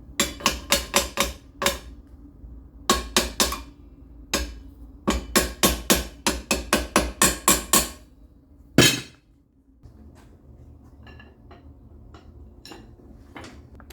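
A hammer taps steel parts of an engine hoist frame into position in quick bursts of sharp metallic strikes, with pauses between the runs and a heavier clang near the end, followed by quiet shop sounds.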